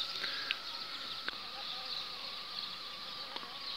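Bees buzz steadily in an urban pitaya orchard at sunset, a continuous, fairly faint hum with a few brief louder passes close by.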